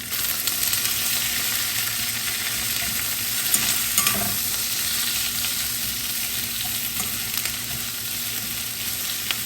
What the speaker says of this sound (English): we're gonna throw in the onions. That gets the flavor going nicely.